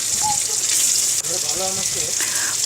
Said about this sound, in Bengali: পনিরগুলোকে আমি লাল লাল করে ভেজে নেব।